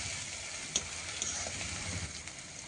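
Spices and ginger paste frying in a pan for a goat meat curry, with a steady close hiss of sizzling oil and faint scrapes and taps of stirring throughout. Nobody speaks.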